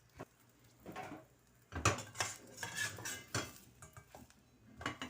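A paratha being turned over on a pan above a low flame, with clatters and scrapes of a metal spatula and a soft sizzle underneath, close and fairly quiet, without speech.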